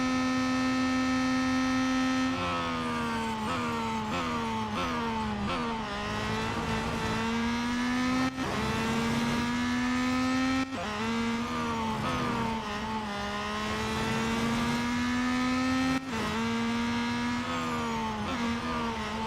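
Race car engines in the Real Racing 3 video game, a steady loud high-pitched whine rising through repeated gear shifts, with several sharp drops and climbs as the car accelerates lap after lap, with no talk.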